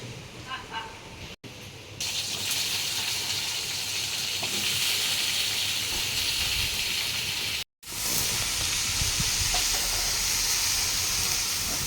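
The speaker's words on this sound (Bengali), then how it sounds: "মাছ ভাজার তেলের মধ্যেই আমি আবারও সরষের তেল দিয়ে দেবো ডেমি কুমড়োটাকে ভাজার জন্য।" Demi pumpkin pieces fry in mustard oil that previously fried rohu fish, giving a loud continuous sizzle and hiss close by after a brief quieter start, with a short cut near the end.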